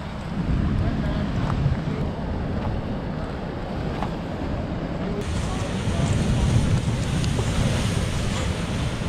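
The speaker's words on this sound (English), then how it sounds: "we're gonna come out by some of the gnarliest surf ever. The ocean is so powerful." Heavy ocean surf crashes and rumbles on the Maine shore in a continuous loud roar, with wind buffeting the microphone.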